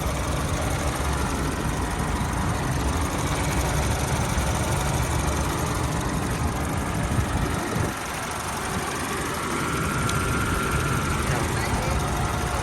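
A Honda CR-V 2.4 4WD engine idles in the open engine bay, giving a smooth, even rumble that runs steadily throughout.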